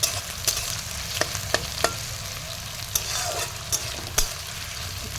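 Onions frying in a pan give a steady hissing sizzle, broken by a handful of sharp scraping clicks as a spoon stirs them, close and with no talking.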